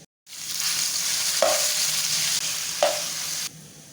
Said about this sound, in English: I'm done frying.